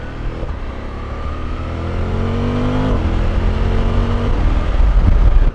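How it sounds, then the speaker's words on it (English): A 2023 V-Strom 1050DE motorcycle engine idles close by, then revs up with a rising pitch that settles and lingers, a steady mechanical drone throughout. "It's a very torquey engine."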